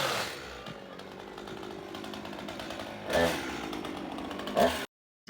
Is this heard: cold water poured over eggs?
no